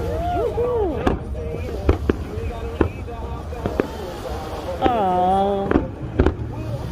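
Fourth of July fireworks at Lake Tahoe, with repeated sharp bangs and crackling bursts at a moderate distance, while people exclaim and whistle excitedly throughout.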